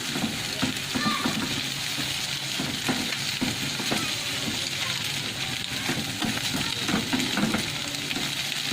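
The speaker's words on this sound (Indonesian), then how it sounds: "Ini saya aduk-aduk aja bikin telur orak-arik. Kita aduk terus sampai telurnya matang." Beaten eggs are stirred continuously in a hot pan to make scrambled eggs, a steady close sizzle broken by repeated scraping strokes of the spatula.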